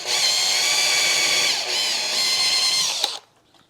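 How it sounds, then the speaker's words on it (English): Power drill boring a pilot hole through a wooden piece of a barn-style chicken coop, a steady high whine lasting about three seconds before it stops abruptly, loud and close with no talk. "Just drill a pilot hole through this piece."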